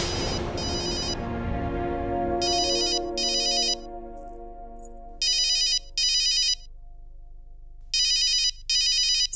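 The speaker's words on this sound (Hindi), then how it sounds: "इस वक्त कौन फोन कर रहा?" A phone rings in repeated bursts of electronic tone pairs, loud and close, with a musical background fading beneath it and no talking.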